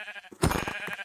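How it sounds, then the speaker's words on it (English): Sheep in the Minecraft video game let out a short bleat, preceded by a fainter one, close and fairly clear with no talk over it. "I found more sheep."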